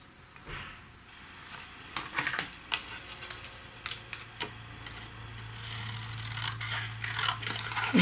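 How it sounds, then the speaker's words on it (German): Scissors cut through paper or card in a run of sharp, close snips and crisp rustles, irregularly spaced over a faint background hum, with no talking. "Das kannst du jetzt auch stanzen oder einfach so wie ich jetzt mit der Schere dir zurechtschneiden."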